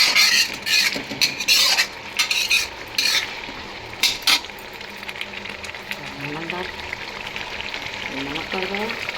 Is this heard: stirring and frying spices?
yes